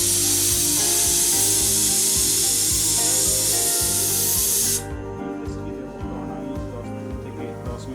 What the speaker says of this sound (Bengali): আমার সিটি প্রেসার কুকারে পড়ছে।